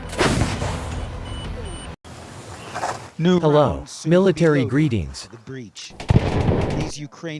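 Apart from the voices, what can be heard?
M777 155 mm howitzer artillery firing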